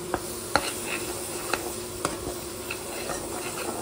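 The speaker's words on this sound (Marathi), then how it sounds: "आता थोडासा बेसन टाकते आणि बेसनला पण तेलात जरा शिजवू" Besan (gram flour) frying in hot oil for crab masala gravy, stirred with soft scraping ticks and a steady low sizzle, close and fairly quiet, no talk.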